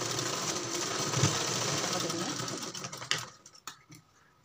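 A sewing machine stitches blouse fabric in fast, buzzing bursts that run steadily and then stutter into short pulses before stopping, heard up close.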